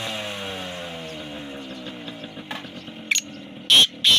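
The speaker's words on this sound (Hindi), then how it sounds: "मोटरसाइकिल वाला रेस बढ़ा रहा है" A motorcycle engine revving up nearby, its pitch climbing steadily over a few seconds, then sharp bursts of noise near the end. No talking.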